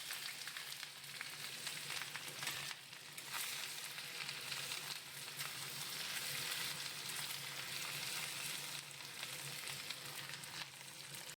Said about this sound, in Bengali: এখানের মধ্যে সব কিছু দিয়ে আদা বাটা, তারপর লঙ্কা জিরে সব কিছু দিয়ে দিয়ে দেবো খিচুড়ির মধ্যে